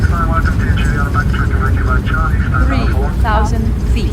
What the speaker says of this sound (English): Reversers.